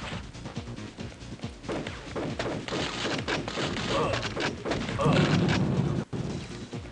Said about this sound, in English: I blew up a desk, I feel accomplished.